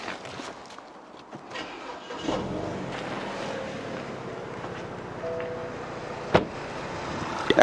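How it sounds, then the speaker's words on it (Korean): An imported car's engine turns over and catches in a repair workshop after a quiet stretch, then settles into a low, steady idle, with faint background shuffling and clatter. "다시 한번 시동 걸어볼까요?"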